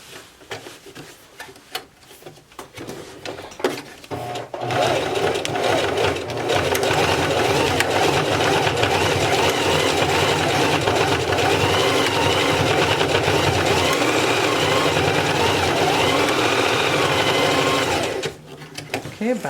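A sewing machine stitches back and forth over a drawstring backpack cord, a dense continuous mechanical whir running steadily and loud at close range after a few brief starts, with a voice talking briefly.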